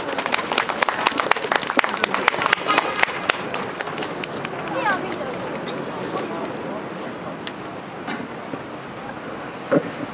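An outdoor crowd at a students' press conference in front of 2.28 Park in Daegu claps loudly at first, then the applause thins and fades into low background murmur.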